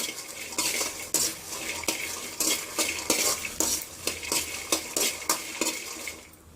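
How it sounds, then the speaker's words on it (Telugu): Dried red chillies roast with peanuts in a pan, a dry rattling scrape of a spatula stirring in steady repeated strokes, close and fairly loud with no talk. "ఈ పల్లీలతో పాటు కూడా ఈ మిరకాయలు వేగిపోతాయండి"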